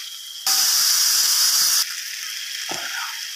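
Chopped ridge gourd tipped into hot oil with reddened fried onions sets off a sudden loud, bright sizzle that holds for over a second, then settles into a quieter steady hiss with a single soft knock near the end.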